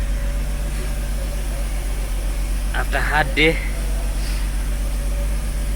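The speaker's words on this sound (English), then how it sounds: "the engine comes to life" A Mercedes W124 300E with the M103 engine idles steadily with a low, even hum throughout, while someone briefly speaks over it midway.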